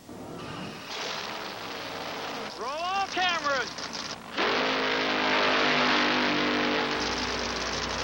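A stunt car racing at nearly 190 km/h during a film stunt, its engine note surging loudly and steadily, with a voice briefly heard over it partway through.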